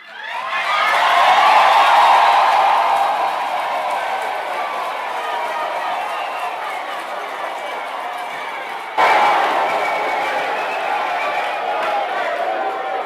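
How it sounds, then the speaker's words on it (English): Graduation ceremony guests at a university autumn graduation stand and applaud the graduates, a dense, sustained crowd of clapping and cheering that swells early, eases, then lifts again near the end. "Can I request all the guests to stand up and give our graduates a big round of applause?"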